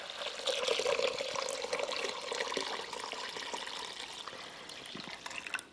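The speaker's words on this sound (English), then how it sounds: "And then we add 8 cups of water." Water pours into a slow cooker for lentil soup, a steady splashing stream that runs for several seconds, softens gradually and stops abruptly at the end.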